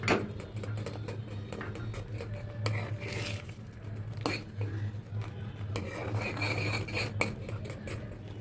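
A spoon scrapes and clinks around a pan while custard powder halwa is mixed with cardamom powder and almond powder, a steady soft scraping with light metallic taps, fairly quiet throughout.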